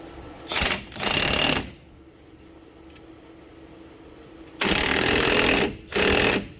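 An impact gun with a 19mm socket hammers a wheel stud in, giving four loud rattling bursts in two pairs with a quiet gap between, close up and without talk.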